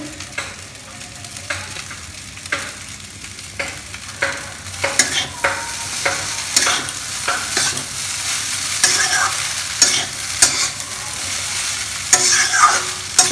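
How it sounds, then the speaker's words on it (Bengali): Boiled egg chow mein noodles being tossed and stirred in a sizzling pan, with repeated scraping clatters of a utensil over a constant frying hiss, close up. "এখন এর মধ্যে চাউমিনটা সিদ্ধ করা চাউমিনটাকে জাস্ট অ্যাড করে দেওয়া হচ্ছে"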